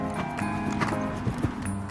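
Draft horse hooves clip-clop in a steady walking rhythm, close and fairly loud, while a horse is ridden at Disneyland.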